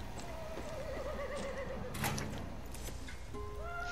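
A horse neighs and whinnies clearly in the Far Cry 6 video game, with a hoof clip-clop and faint game ambience around it.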